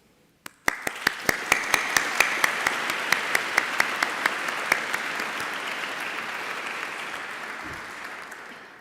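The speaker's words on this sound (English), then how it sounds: "I would like us to take a moment to applaud them" An audience at a university graduation ceremony in Rochester Cathedral breaks into sustained applause, a dense roar of clapping with one sharp, regular clapper standing out, slowly thinning toward the end.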